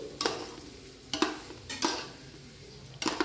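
Potatoes frying in a pot being stirred with a metal spoon, giving four distinct scraping clinks at roughly one-second intervals, close and moderately loud with no talk.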